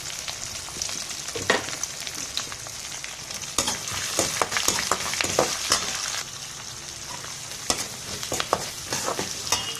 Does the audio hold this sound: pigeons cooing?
no